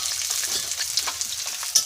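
Onion fries in hot oil with a dense, even sizzle. Light spitting pops and stirring scrapes run through it, and no voices are heard.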